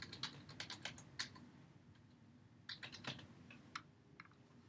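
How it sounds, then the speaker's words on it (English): Keys tapped on a computer keyboard while entering a username and password, quick bursts of clicks with short pauses, close and fairly quiet, no talking. "you want to type in your ASU Right ID, your username,"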